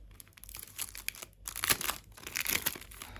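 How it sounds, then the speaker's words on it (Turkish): Packaging for a DJI Pocket 2 camera crinkles and rustles as the box is opened, close-up bursts of crumpling plastic and paper over a few seconds, no talking. "Şimdi şunun kutu açılımını yapalım bakalım."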